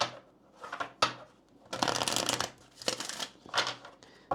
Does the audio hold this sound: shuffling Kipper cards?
yes